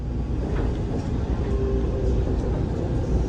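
Steady rumble and rail noise from inside the Taoyuan Airport MRT express metro train as it runs toward Taipei, a constant close drone with faint clatter and no clear speech.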